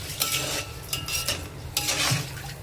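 Washed rice being stirred in a pot with a spoon for a dry bombil (Bombay duck) rice dish, giving a few soft scraping strokes with light clinks of cutlery against metal over a faint sizzle.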